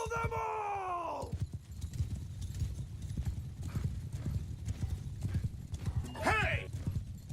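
Horses gallop in a Bannerlord battle running a Lord of the Rings mod, a steady dense clip-clop of many hooves throughout, with neighs and whinnies at the start and again near the end over low battle noise.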